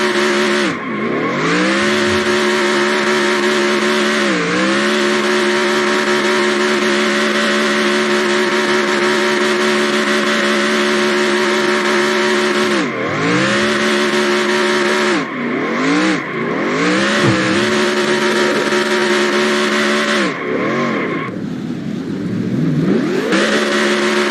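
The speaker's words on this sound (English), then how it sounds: "So I was trying to turn left and do a burnout, like sliding down to the racetrack." Race car engine at sustained high revs during a burnout in the NASCAR Racing 2003 video game, a loud continuous whine with tire squeal, several sharp dips and recoveries in pitch as the car slides toward the grass, with no talking.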